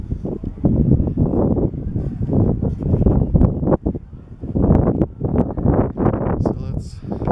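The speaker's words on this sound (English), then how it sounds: "So it's really windy." Wind gusts rumble and buffet the microphone steadily among the churches inside the Moscow Kremlin near Ivan the Great Bell Tower, a loud, continuous low roar with brief dips.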